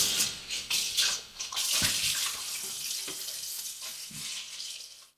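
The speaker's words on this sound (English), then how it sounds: "We're just getting water from the tap." Tap water runs steadily into a cooking pan being filled for gluten-free spaghetti, a continuous hissing splash with a few brief clunks, fairly close and alone with no talking.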